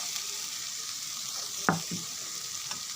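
Potatoes and vegetable stalks frying in cooked spice paste for a puti fish curry, a soft continuous sizzle with one sharp clatter of a stirring spoon near the middle and a few light scrapes.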